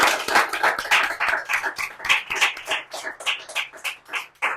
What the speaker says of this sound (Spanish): Así que un aplauso nuevamente